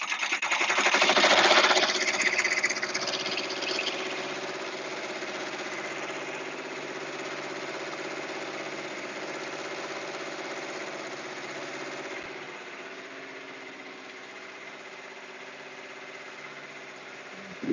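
Embroidery machines stitch shirts and towels in a workshop, giving a steady mechanical hum and rapid buzzing chatter, louder at first and then settling into an even drone.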